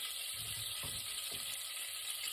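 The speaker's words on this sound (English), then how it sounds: "So the cumin seeds and butter and oil are popping nicely." Cumin seeds sputter in hot butter and oil in a pan with onion, making a faint, steady sizzle with a few soft pops.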